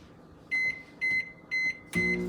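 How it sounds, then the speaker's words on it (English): A microwave oven heating a cup of white chocolate gives four evenly spaced loud electronic beeps, the last running into the low hum of the oven. "you're gonna put your 1 cup of white chocolate into the microwave for 2 minutes and 50 seconds"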